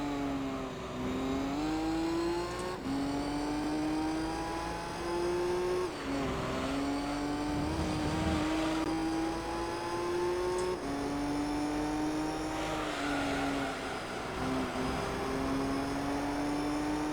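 Race car engines whine steadily in Gran Turismo 3 during an Amateur GT World Championship race, with a Super and a GTR running close; the pitch climbs through repeated gear shifts, with tire noise throughout and no speech.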